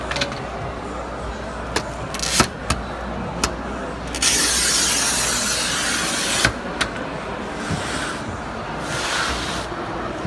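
A manual tile cutter's carriage scores a tile piece with a rough, hissing scrape that swells for about two seconds, set among sharp clicks and knocks of handling, with faint talk in the background.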